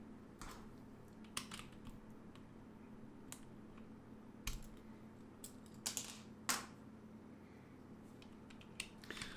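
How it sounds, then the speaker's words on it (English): Someone types on a plateless wireless Tofu 65% keyboard fitted with lubed retooled MX Black switches, producing irregular sharp clacks at close range against a faint background hum, with no speech. "Let's do the typing test."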